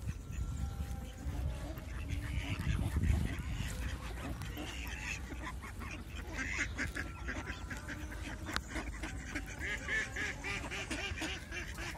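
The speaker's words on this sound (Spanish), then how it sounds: "esos son azulones, ¿lo veis? Eso sí los conozco. El pato de río, el azulón" Mallard ducks, male and female, quack in a park in Murcia amid a busy, noisy outdoor background with other fowl calls mixed in.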